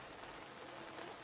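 Steady rain falling, a soft continuous hiss of drops with no voices.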